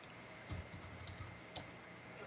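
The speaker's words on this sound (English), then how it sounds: "like you're typing with one finger. That's what it sounds like." Computer keyboard keys clicking in a few sparse, uneven taps with pauses between them, faint and close, with no talking.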